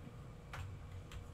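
A clock ticks in the video game Amanda the Adventurer, two faint, evenly spaced ticks over a quiet background with no talk.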